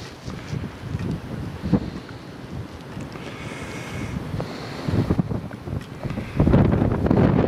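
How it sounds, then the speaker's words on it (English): Gusty wind on a cold winter day by a marina rumbles and buffets against the microphone, swelling louder in bursts, especially near the end, with no talking. "Cold, windy day today."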